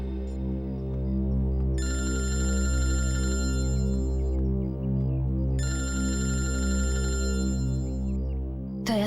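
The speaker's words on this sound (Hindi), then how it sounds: "दया सर का फोन।" A telephone rings loudly in a repeating pattern, two long bursts of ringtone over a steady tonal hum with no one speaking.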